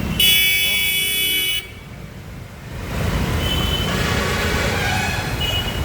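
Chennai city traffic opens with a loud, sustained horn blast, then gives way to a dense wash of road noise and engine rumble from busy vehicles nearby.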